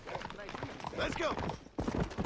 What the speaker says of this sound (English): If my horse would get here.